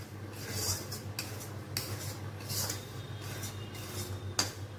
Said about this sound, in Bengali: এখন এটাকে সুন্দর করে ভাজা ভাজা করব।